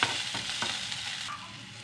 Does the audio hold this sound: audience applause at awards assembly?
no